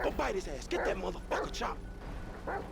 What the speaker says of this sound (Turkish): Köpeği çıkardı.